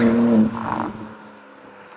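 BMW M2 with its S58 engine accelerating hard, a loud strained note for half a second that then fades into a quieter steady cabin hum.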